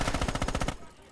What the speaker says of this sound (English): I'm already at the machine gun.